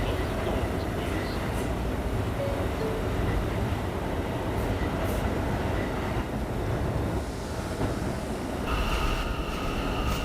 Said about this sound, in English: This is a Slicen Terminal bound K local train.